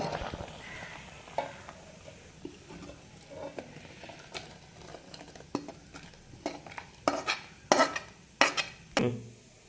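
Cooked greens and dal being scraped and transferred into a vessel: scattered metal spoon and pot clinks, growing louder and more frequent toward the end, with a faint background hiss.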